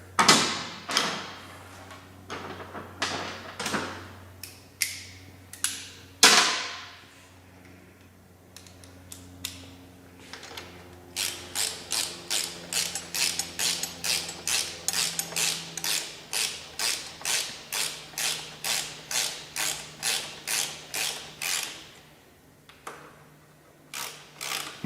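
Fasteners are run down during a full exhaust installation on a 2021 Yamaha MT-09, with a ratchet clicking in quick rhythmic bursts of sharp ticks and a few louder isolated clicks and creaks, close and fairly quiet with no talking.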